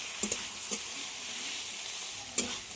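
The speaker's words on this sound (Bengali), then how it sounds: "আদা রসুনের যতক্ষণ না কাঁচা গন্ধ যায় ততক্ষণ কিন্তু কষিয়ে নিতে হবে।" Ginger garlic paste is sautéed with tomato in a pan under a steady hiss of frying, with a few faint scrapes of a spoon near the start and one near the end.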